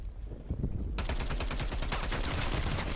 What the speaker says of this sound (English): I'm at a third health, and the shotgun saves my life.